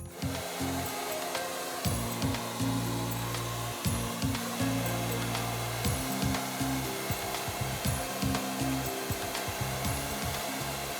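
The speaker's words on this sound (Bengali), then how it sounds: "ড্রায়ার বন্ধ হলেই কেবল আমরা কথা বলতে পারছি, আমরা ড্রায়ারের সময় কথা বলে দেখা যায় যে সব কথা ঠিক মতো শোনা যায় শোনা না।" A hair dryer runs continuously with a steady broadband whoosh, close and fairly loud, with faint rubbing and handling sounds over it and no talk.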